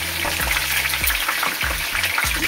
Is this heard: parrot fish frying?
yes